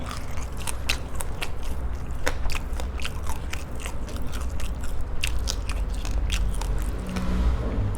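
Close, loud crunching bites and chewing of crispy fried tilapia fish, a continuous run of sharp crackling crunches with no talking.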